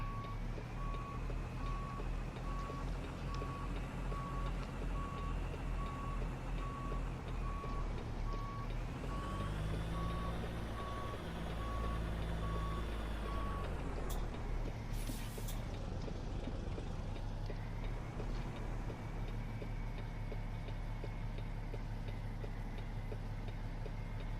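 A truck backing up in American Truck Simulator on a Denver to Amarillo haul: a steady, evenly spaced reversing beep over a low engine rumble for about fourteen seconds, then the beeping stops while the engine carries on.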